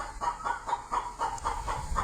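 A lame hen, both legs injured so she can barely walk, clucks in a steady run of short, evenly spaced notes, close by and fairly loud, with no talking.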